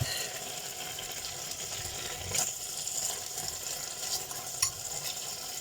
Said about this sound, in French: Voilà mes saucisses qui sont en train de cuire.